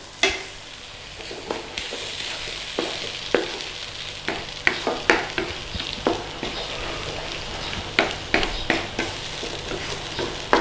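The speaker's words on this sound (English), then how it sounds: "As soon as it starts thickening, stir through." Thickening egg and tomato sauce is stirred in a frying pan, a soft sizzle under repeated sharp scrapes and taps of the utensil against the pan, close and irregular, with no talking.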